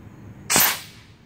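An air cannon built from an old fire extinguisher fires a sinker, a single sharp loud blast with a short decaying whoosh, following a quiet background.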